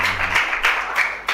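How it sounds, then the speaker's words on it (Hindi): Children in a Hindi church sermon audience clap their hands together in a brief burst of a few distinct, roughly rhythmic claps. "एक बार सारे बच्चे ताली बजा दो भाई"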